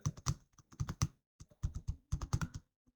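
Close, crisp clicks of a computer keyboard come in quick bursts of keystrokes with brief pauses between them, alone and fairly quiet.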